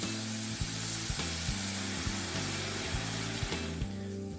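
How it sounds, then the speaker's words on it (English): Red wine vinegar deglazes a hot pan of cooked chorizo and ground beef, giving a steady, close, loud sizzle with a continuous hiss and faint scraping, heard alone without speech. "now we're gonna deglaze the bottom of that pan with some red wine vinegar"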